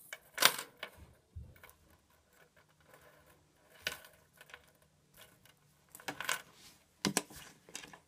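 Metal paper clips being handled and dropped, making scattered light clinks and ticks in short irregular bursts, close and fairly quiet with pauses between.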